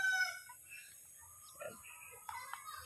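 Native chickens on a farm cluck and call softly nearby, scattered short vocalizations over a quiet background with a faint steady hum.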